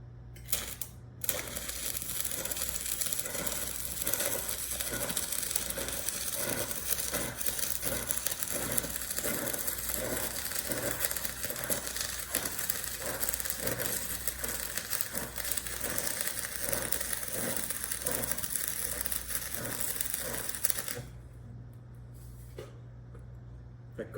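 Stick electrode arc welding along a joint with slightly reduced arc force produces a dense, continuous crackling sizzle for about twenty seconds, then stops abruptly and leaves a low steady hum.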